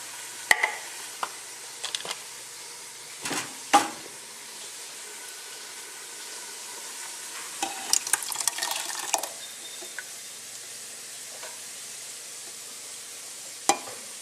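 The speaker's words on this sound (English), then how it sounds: "what I'm going to do now is I'm going to add my tomato puree, because my onions have been cooking for a while" Tomato puree goes into a pot of onions cooked for several minutes for marinara sauce. There is a low sizzle, and sharp spoon scrapes and clacks come in bursts while it is stirred. No one speaks.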